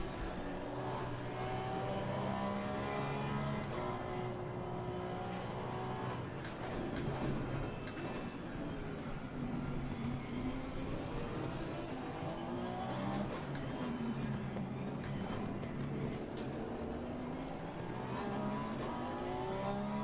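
Porsche race car in the racing game Assetto Corsa Competizione, its engine droning steadily and loudly throughout, the pitch rising and falling with gear changes and throttle, with occasional faint tyre squeal.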